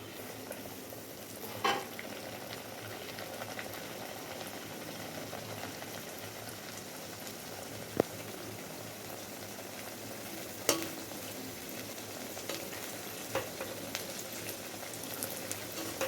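Masala naan paratha fries in a wok with a soft, steady sizzle at low level, broken by a few sharp clinks of a utensil against the pan, with no voices.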